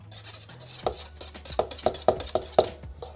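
A spoon stirs red food colouring into a fake-blood mixture for a Halloween brain dessert, making a quiet run of rhythmic clinks and scrapes against the bowl, about five distinct taps, with no talking.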